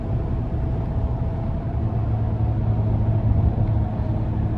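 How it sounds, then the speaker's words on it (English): Steady low diesel drone from a 2016 GMC Sierra 3500HD Denali dually with the Duramax engine, heard from inside the cab while driving, a continuous even rumble with no talk. "it's just something about the Duramax diesels. They just sound so good when you put your foot into them"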